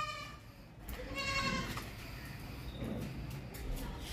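Goats with their young kids bleat on a farm, several high wavering cries early on and a few more later, over a background of livestock and other animal noise.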